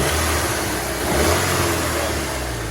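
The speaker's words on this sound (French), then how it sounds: "Mets un coup de soupape là, qu'on entende le moteur là." A 2.0 TFSI turbo four-cylinder in an Audi TT MK2 with a stainless exhaust line revs up and settles back, a steady mid-pitched engine drone rising briefly in the middle, heard up close with no talking.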